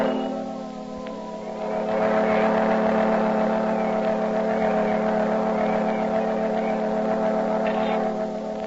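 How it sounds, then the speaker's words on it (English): Fire engines pass by with a loud, sustained motor drone that swells after the first couple of seconds and stays heavy to the end. "Oh, there go the fire engines."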